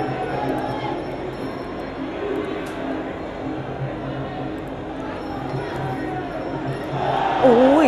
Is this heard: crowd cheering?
yes